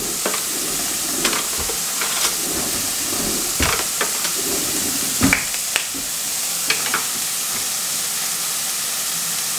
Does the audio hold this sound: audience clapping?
no